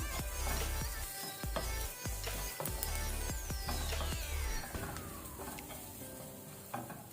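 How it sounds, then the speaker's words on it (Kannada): Cumin and turmeric powder fry on a low flame, giving a close, continuous sizzle with scraping stirs, a few clanks and a faint whistling tone that falls in pitch midway, with no talking. "ಸೊ ಇದನ್ನು ಲೋ ಫ್ಲೇಮಲ್ಲಿ ಸ್ವಲ್ಪ ಫ್ರೈ ಮಾಡ್ಕೊಳ್ಳುವ"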